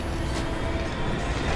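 Steady rumbling rattle of a moving train in the video game Call of Duty Ghosts, a dense continuous roar with faint metallic clatter and no pauses.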